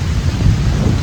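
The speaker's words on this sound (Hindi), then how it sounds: "तो अभी बारिश आना स्टार्ट हो चुकी है।" Heavy rain pours down during a thunderstorm over wheat fields, a loud, dense, steady roar with deep rumbling underneath, continuous and close with no voices.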